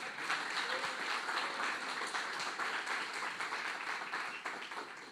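A church congregation in Curitiba applauds during a Baptist sermon, steady, dense clapping from many hands that fills the room for several seconds, slightly distant, with no voices over it.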